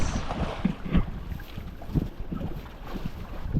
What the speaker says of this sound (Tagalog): Talagang malakas talagang hangin mga tropa.